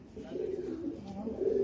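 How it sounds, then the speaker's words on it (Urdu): Rampuri pigeons cooing in a low, continuous murmur, a steady close-up burble of several birds with no talk over it. "یہ سلیم بھائی کے کبوتر ہیں"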